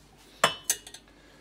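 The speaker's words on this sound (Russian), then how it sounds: "Какие-то кастрюли допотопные достал." Old metal saucepans handled in a home kitchen while making gooseberry preserves: two sharp metallic clanks, then a couple of lighter clinks, close and otherwise quiet.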